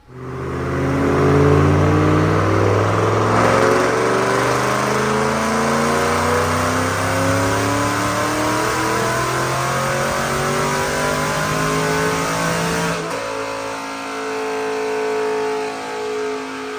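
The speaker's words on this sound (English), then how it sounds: "Check out this dyno pull." A 2006 Mustang GT with a Paxton Novi 2200 supercharger, Detroit Rocker cams and an automatic transmission makes a dyno pull, its engine revving loudly and climbing steadily through several rising gears before easing off to a lower roar.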